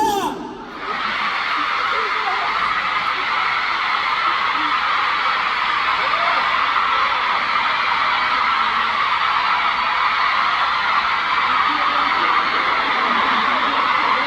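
A large crowd in the stair seats at a concert in Busan roars and screams continuously, a dense, loud wall of cheering voices that swells in after a brief quieter moment and holds steady.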